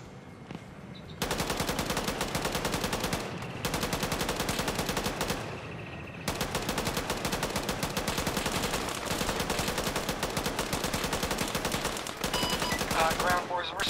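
Long bursts of rapid machine gun fire during a military-style video game operation, loud and close, broken by short pauses between strings of rhythmic shots, with faint voices underneath.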